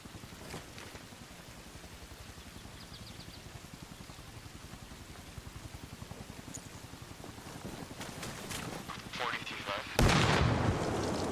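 Grenade blasts in the military shooter Arma Reforger: a steady rumble of distant gunfire and battle noise builds, then a sudden loud explosion bursts near the end.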